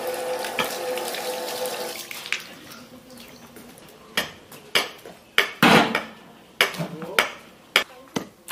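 Tap water runs steadily while hot pot ingredients are washed in a sink, followed by a series of sharp clinks and knocks of items and dishes being handled, with voices talking intermittently.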